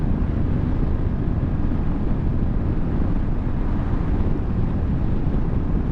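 A 2023 Royal Enfield Classic 350 runs at full throttle near 70 mph, a dense, steady engine drone mixed with heavy wind rush that stays loud and unbroken throughout.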